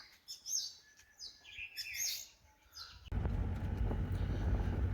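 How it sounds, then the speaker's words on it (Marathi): Several birds chirp and tweet outdoors in the early morning for a few seconds before a low, steady car engine rumble abruptly takes over. "पक्ष्यांचा आवाज येतो मस्त."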